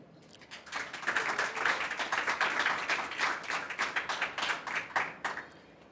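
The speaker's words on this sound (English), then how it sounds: "please do help me give our speakers a round of applause" An audience claps for the speakers at an Art Basel conversation event, a steady round of applause that swells after a faint start, holds dense for several seconds and tapers at the end, heard from a moderate distance with no talk.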